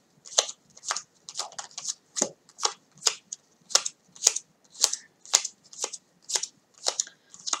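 Tarot cards from a Native American deck being shuffled, with steady rhythmic riffles of about seventeen crisp bursts at close range and no talking.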